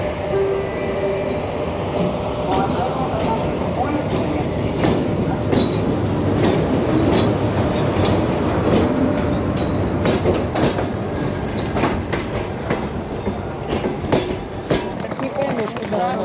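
A train arriving at a station in Crimea rumbles along rails with rhythmic clatter and occasional squeals, heard steadily from nearby, with faint voices in the background.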